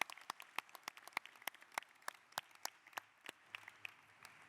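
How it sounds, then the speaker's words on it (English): Sparse, faint hand claps from a ceremony audience at a university presidential inauguration, sharp separate claps scattered over several seconds rather than a full roar, sounding thin and somewhat distant. "You can clap again."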